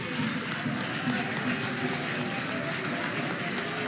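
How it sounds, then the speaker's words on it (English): At a high school debate quarterfinal between KNUST SHS and Prempeh College, a crowd applauds the teachers. The clapping is a dense, continuous wash mixed with crowd noise and a low murmur of voices. "I want you to stand up and clap for the teachers."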